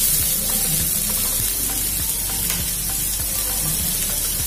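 Ragda chaat ingredients sauté in a hot pan with a loud, even sizzle, broken by repeated scraping and stirring strokes; no voices.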